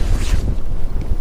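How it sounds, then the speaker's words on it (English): Strong wind buffets a microphone outdoors beside the water during a fishing trip, giving a loud, continuous rumbling roar with gusty swells. "That wind is something else."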